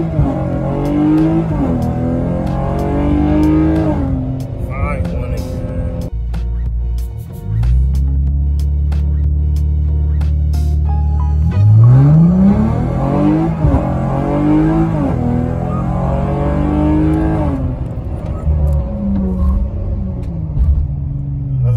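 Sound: Dodge V6 car accelerating in a 0-60 run

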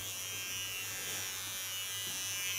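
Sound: small electric hair clipper trimming hair

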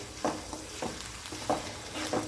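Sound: onion paste sautéing in oil

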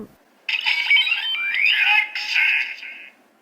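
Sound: toy stamp electronic voice announcing its name

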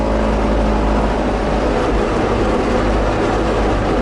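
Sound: tractor engine running during silage mowing

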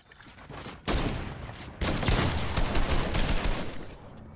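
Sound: gunfire in the Fortnite video game

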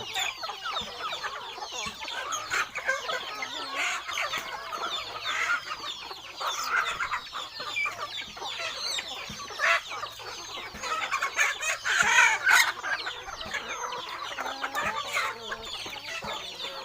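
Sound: Thai native chickens clucking and crowing

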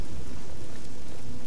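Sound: rain in The Elder Scrolls IV: Oblivion video game

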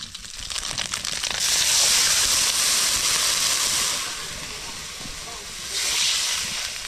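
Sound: water poured into hot pan of fried fish, hissing

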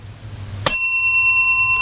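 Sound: bicycle bell ringing

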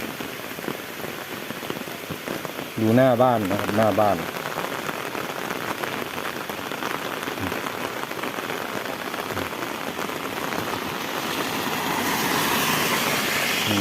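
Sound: heavy rain falling in front of a house

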